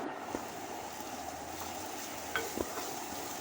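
An onion mixture with chopped green chilli is stirred in a pan, giving a faint, even frying hiss with a few soft utensil taps and scrapes toward the end.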